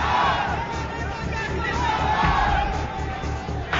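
A large crowd at a packed stadium rally in New Delhi's Talkatora Stadium chants and shouts slogans for Modi, a dense continuous roar of massed voices with rhythmic swells, loud and unbroken throughout.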